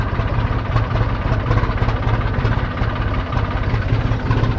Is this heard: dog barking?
no